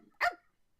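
One short, clean dog bark, close and fairly loud, standing alone in silence.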